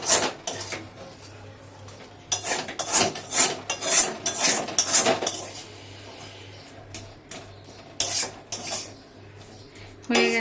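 Spice paste being stirred and scraped in a pan with a spatula for stuffed pointed gourd, giving repeated close, rasping metal scrapes and clatters in bursts with a low steady hum underneath.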